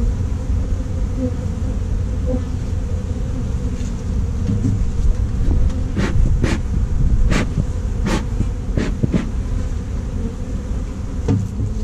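Honey bees buzz in a dense, continuous drone around an opened urban beehive, close and steady, with a few sharp clicks and knocks from hive parts being handled.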